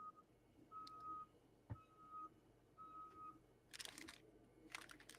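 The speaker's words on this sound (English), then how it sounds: "I hear a backup alarm." A truck's backup alarm beeps steadily from a distance, four evenly spaced tones. Faint rustling and clatter follow the beeps.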